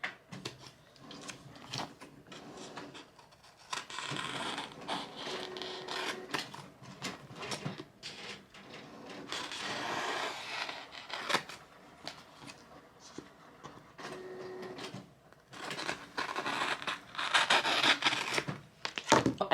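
Scissors cutting along the clear edge of laminated sticker paper, close, irregular crisp snips and rustling paper in short bursts with pauses between, no talk.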